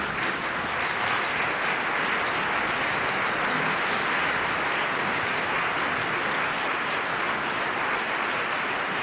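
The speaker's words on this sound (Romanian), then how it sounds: "Este aplaudată intrarea în scenă a celor trei soliști" A concert audience at a Transilvania Philharmonic orchestral performance claps steadily as three soloists walk onstage, a dense, even wall of applause filling the hall for about nine seconds without pause.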